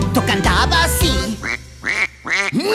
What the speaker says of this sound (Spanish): ¡Eso es un pato!